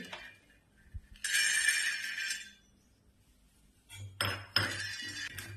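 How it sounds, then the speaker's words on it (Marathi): Peanuts are dry-roasted in a pan for a village-style stuffed eggplant masala, heard as two bursts of scraping and clinking from a metal spatula stirring against the pan with quiet gaps between them. "आता शेंगदाणे भाजून घेऊ"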